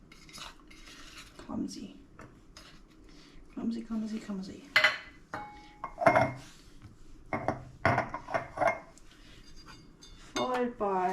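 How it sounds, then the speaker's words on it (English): Apple pickle pieces drop into glass jars in a kitchen, making scattered clinks and knocks of glass at an irregular pace, with a brief spoken word among them. "Just want to evenly disperse them into the jars."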